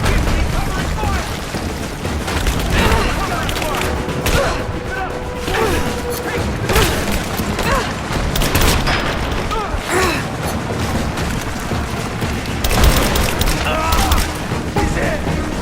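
Gunfire and grenade explosions in the Rise of the Tomb Raider video game, a loud, dense barrage of shots and booms with shouted voices in the mix throughout.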